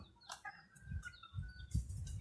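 Chickens cluck softly at a distance, scattered short calls over faint background noise and light scratching, as they come to eat food outside at a Thai mango orchard.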